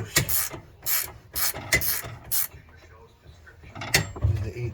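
Wrenches work a bolt loose on a Dodge Challenger rear upper camber arm, with close, rhythmic scraping and ratcheting clicks in short bursts, then a pause and a few more clicks and knocks.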